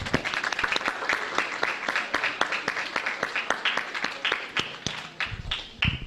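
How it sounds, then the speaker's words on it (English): An audience at a primary school graduation claps for the graduating pupils, a sustained round of sharp, crisp hand claps with varied rhythm and several distinct louder claps standing out, with no voices over it. "I want us to give them a big round of applause for the hard work they have done"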